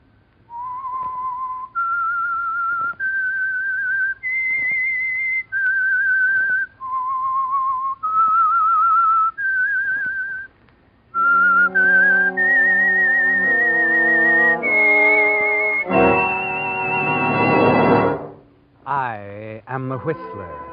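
A lone whistled melody of sustained, sliding notes serves as the signal theme for an old-time mystery radio drama, first in separate phrases, then rising over swelling orchestral music that ends in a loud burst.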